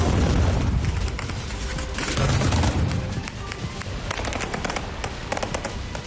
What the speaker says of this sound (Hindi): इस दौरान गोलियों की आवाज भी सुनी गई।